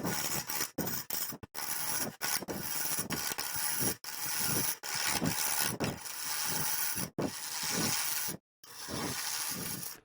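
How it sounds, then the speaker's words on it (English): A wood lathe turns a dry cherry wood bowl, giving a loud, continuous rasping and scraping roar. The sound breaks off in several brief gaps where the cutting tool lifts from the wood. "I really don't like turning dry cherry."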